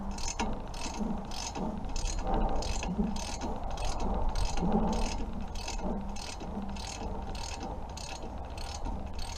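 A wrench works a rusted bolt and nut on a 1938 Farmall F20 tractor during teardown, giving a steady series of repeated metallic ratcheting clicks, close and fairly loud, with no talking.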